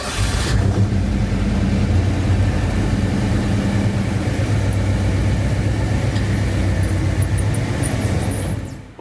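A 1985 Ford Bronco engine running steadily, a loud close low rumble at idle that holds evenly for several seconds before cutting off at the end.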